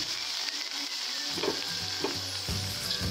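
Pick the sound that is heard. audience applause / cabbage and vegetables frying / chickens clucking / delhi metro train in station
cabbage and vegetables frying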